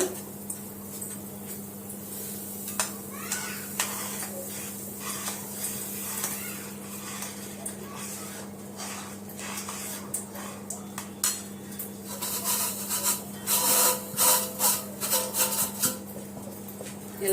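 Metal utensils scrape and clink against a pot as semolina is stirred into boiling water for jaggery kesari, over a steady low-flame burner hum; the clattering grows busier and louder toward the end.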